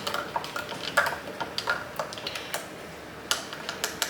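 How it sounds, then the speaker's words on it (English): A spoon stirs and blends food in a bowl, giving a series of light, close clinks and scrapes at irregular intervals, fairly quiet, with no talking. "And then I'll just give it a mix to blend it."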